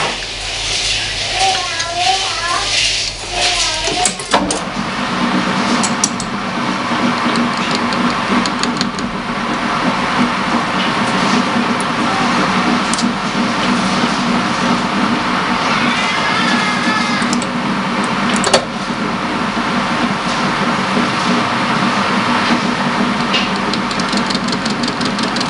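A metal lathe at 400 RPM takes an uninterrupted power-fed cut on a collet block, producing a steady, continuous machining drone with a faint whine. Speech precedes the cut and a short voice returns partway through.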